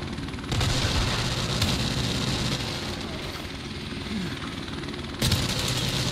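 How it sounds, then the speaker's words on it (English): A helicopter in the video game Modern Warfare Remastered gives off a steady, loud rotor rumble. The roar holds for about six seconds, with brief louder swells near the start and the end. "And again, this helicopter is after me."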